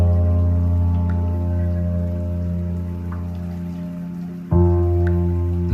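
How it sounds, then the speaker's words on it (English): Heavy rain falls steadily in the video game The Uncertain, a dense continuous wash with a low droning hum beneath it and a brief dip before the sound swells back up, with no voices. "I cannot get to you right now because of a heavy rain"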